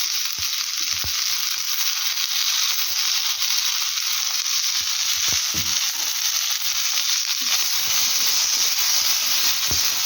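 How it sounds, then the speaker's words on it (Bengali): Tomatoes frying in a pan alongside already-boiled potatoes, giving a steady close sizzle with scattered crackles and spatters and occasional stirring clicks throughout, with no talking. "টমাটোগুলো একটুখানি নরম হয়ে যায় ততক্ষণ এটাকে ফ্রাই করব।"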